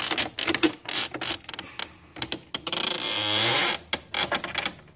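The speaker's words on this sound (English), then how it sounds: "This is an old printer, so we'll make some noises." An old Brother MFC-240C inkjet printer mechanism clatters and ratchets in quick bursts, then gives a sustained whirring glide before the clicking starts up again.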